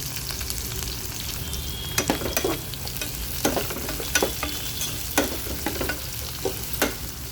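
Thinly sliced onions and green chilies frying in a pan with garlic, a constant sizzle under repeated sharp scrapes and taps of a stirring utensil, close and fairly loud, with no voices.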